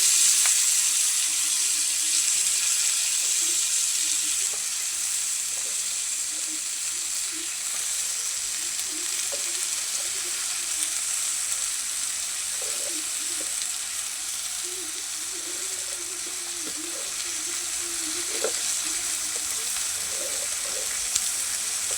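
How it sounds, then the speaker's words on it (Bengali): Home-grown greens sautéed with spices for a fish curry, a soft continuous sizzle with faint intermittent stirring and a wet, watery undertone throughout, no talk. "শাকগুলি দিয়ে ভালো করে কষাই নিব"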